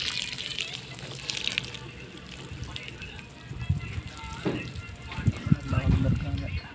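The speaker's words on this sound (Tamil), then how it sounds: "நல்லா தான் இதுக்கு தண்ணி விடுறேன்." Water pouring onto okra plants in a farm plot, a steady splashing gush with uneven spatters, while someone talks over it.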